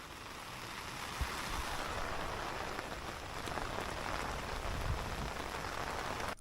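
Rain falls steadily outdoors in a dense, even hiss of drops hitting surfaces, close and constant with no talking.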